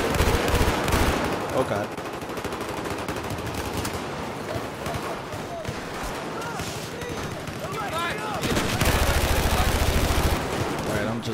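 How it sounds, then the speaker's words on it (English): AEK rifle firing bursts in Battlefield, rapid loud gunfire clusters throughout with heavier blasts at the start and near the end, a voice exclaiming briefly over the shooting. "AEK in burst mode"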